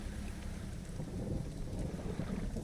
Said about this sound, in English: that was storm noises